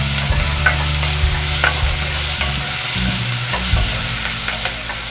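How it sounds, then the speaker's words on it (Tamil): Small onions sauté in a pan for sambar, with a steady broadband sizzle and frying hiss, light stirring scrapes and clinks recurring throughout, close and fairly loud with no voices. "பாருங்கள் வெங்காயம் நல்லா வதங்கிருச்சு."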